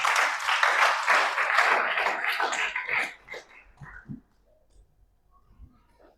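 Church congregation clapping at a Good Friday sermon, a loud crowd of hands that fades out after about three seconds, followed by faint scattered noises and quiet.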